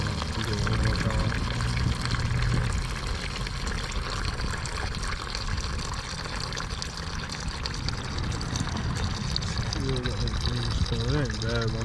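Coolant drains and splashes out of a 2007 Kawasaki ZX10R motorcycle in a steady, loud liquid pour that runs continuously, while someone talks over it.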